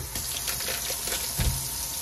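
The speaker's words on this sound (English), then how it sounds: "I will run hot water" Hot water running from a kitchen tap into a bowl, a steady close hiss and trickle that continues without a break, with a brief deeper splash near the end and no voices.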